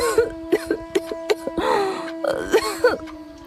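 A woman coughs repeatedly in an animated Hindi story, her character ill with tuberculosis: a run of short, sharp rhythmic coughs followed by longer raspy, strained hacking bursts, close and fairly loud.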